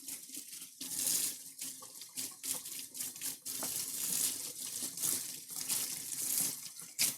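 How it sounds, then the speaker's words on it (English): Running tap water rinsing a whisk at a kitchen sink, a steady splashing gush with uneven surges as the utensil moves through the stream, close and moderately loud, with no talking. "I'm going to get another whisk. Or just wash this one, I guess."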